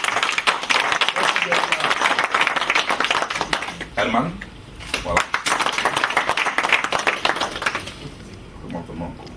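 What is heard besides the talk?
audience applauding Toili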